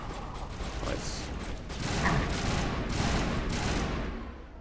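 Bursts of gunfire from a gun in Mass Effect, rapid clustered shots rising and falling over mechanical clatter, moderately loud with no talk.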